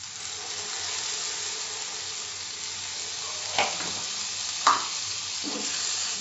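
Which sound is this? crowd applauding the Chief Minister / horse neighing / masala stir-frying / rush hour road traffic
masala stir-frying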